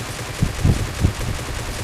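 Gunfire in PUBG Mobile, a few quick, close shots in rapid succession over a dull rumbling background, lasting under two seconds.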